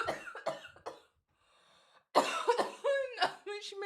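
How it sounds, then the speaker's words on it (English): A person coughs several times in quick bursts, then pauses briefly before a louder, harsher run of coughs with a strained, voiced quality. "She made me fucking cough"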